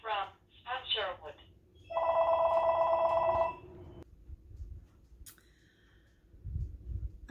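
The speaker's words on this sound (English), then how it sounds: "Phone is ringing, of course." A telephone bell rings in a home in a single loud, buzzing ring of about two seconds, with a voice heard speaking before it and faint clicks and movement after.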